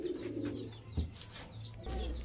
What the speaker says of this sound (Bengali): এখন এক জোড়া আর্মি কবুতর দেখবো